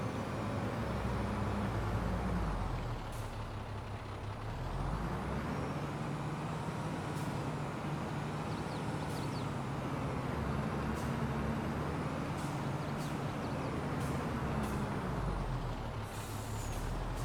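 A grain truck with air brakes in a farming video game rumbles steadily with a low engine drone. Repeated sharp air-brake hisses and releases sound over it, with no talking.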